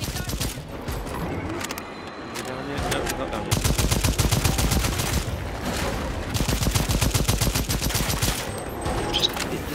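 Rapid automatic gunfire in the shooter Second Extinction, bullets glancing off a target; dense, loud bursts that grow heavier partway through and keep going almost without pause.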